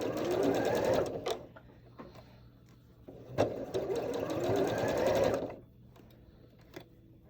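A sewing machine stitches a quilt block in two steady runs of fast, even needle rattle, each a couple of seconds long, separated by quiet pauses with small clicks, close and clear.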